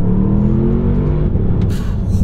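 A 2023 Porsche Panamera Turbo S engine pulls hard on a mountain pass, a loud, close, deep rumble with rising harmonic tones across a couple of seconds.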